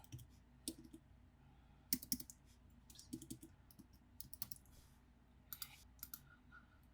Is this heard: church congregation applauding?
no